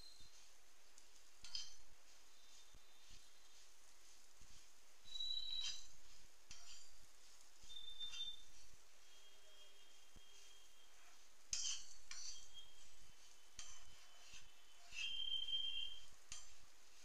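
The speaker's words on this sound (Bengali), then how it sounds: "ঘি দিয়ে দিচ্ছি, চষিটাকে ভেজে নেব।" Small rice-flour choshi pasta being fried and stirred in ghee for choshir payesh, heard as faint, sparse scraping strokes over a low background with a soft sizzle between them.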